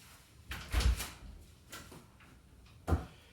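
A door near a workbench is opened, making a cluster of close wooden thumps and creaks followed by a second distinct knock a couple of seconds later, against quiet room tone.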